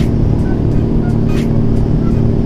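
A 225 cc Scorpio motorcycle engine drones steadily and loudly at racing speed, a continuous dense rumble with rushing wind noise and no pauses.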